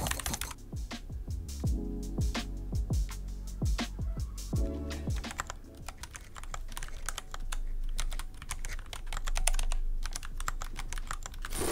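Rapid typing on a mechanical keyboard fitted with tactile switches, a dense run of close, deep thocky keystrokes with occasional louder clacks, continuous and without speech.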